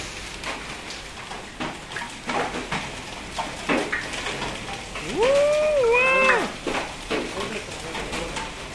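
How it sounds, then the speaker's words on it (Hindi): Irregular sharp knocks of hailstones striking a car body up close during a night hailstorm in Jammu, with a person briefly exclaiming partway through. "गाड़ी गाड़ी को टपा टप हो रहा है।"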